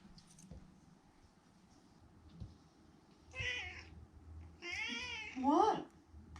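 A house cat named Tabi meows several times in quick succession, rising and wavering calls close by, with a brief rustle before them and quiet room noise throughout.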